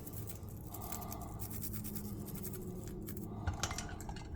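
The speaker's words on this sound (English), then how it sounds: "Then I take my bigger pipe cleaner," Small pipe cleaner scrubbing the impeller of a cat water fountain pump, a faint, close bristly rasping with light plastic ticks, steady and quiet throughout with a couple of slightly sharper taps near the end.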